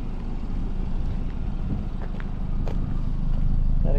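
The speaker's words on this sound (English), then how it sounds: "That exhaust sounds good." Exhaust of a 2014 BMW 328i xDrive twin-turbo sedan running, a steady low rumble that stays close and constant throughout, with a slight rise toward the end.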